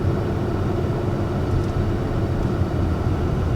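A 2020 Volvo XC40's engine revs while driving, heard as a dense, low, steady rumble with road and cabin noise and no distinct burble, constant in loudness.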